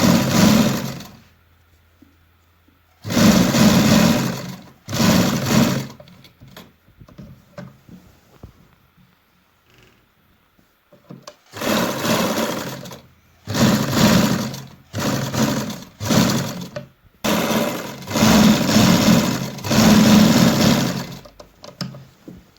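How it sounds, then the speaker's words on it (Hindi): A sewing machine stitching a kurti placket runs in repeated bursts of fast whirring, several starts and stops separated by quiet pauses, close and fairly loud, with no voices. "चले तो सिलाई लगा के मैं आपको दिखाती हूँ।"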